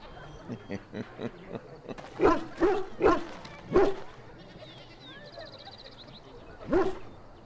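A dog in the video game Dragon Age: Origins, in the village of Lothering, barks several times in a quick series, then once more after a pause, fairly close, with faint higher chirping sounds in between.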